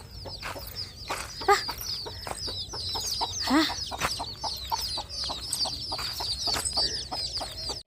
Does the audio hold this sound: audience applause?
no